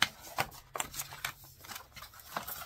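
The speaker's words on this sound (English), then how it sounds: "fold it on the actual folds from the beginning, from the manufacturer" Paper dust jacket of a book being folded along its factory creases: a few close, crisp rustles and soft crinkling taps spaced irregularly, quiet, with no speech.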